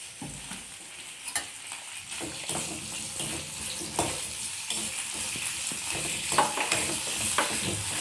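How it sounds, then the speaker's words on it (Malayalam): Okra sautés lightly in a pan, a soft, close sizzle punctuated by repeated scraping and stirring clicks from a spoon, fairly quiet and with no voices. "ഈ വെണ്ടയ്ക്ക ഞാൻ വാട്ടിയെടുക്കുകയാണ് കേട്ടോ."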